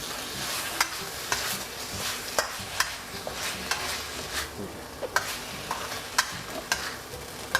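Grilled stingray being stir-fried with red curry paste in a pan: a soft continuous sizzle with repeated sharp scrapes and clacks of a spatula at an uneven rhythm, moderately quiet and close, with no voices.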